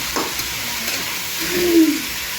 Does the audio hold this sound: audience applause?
no